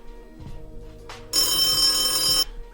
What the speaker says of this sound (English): Can I listen to the bell real quick?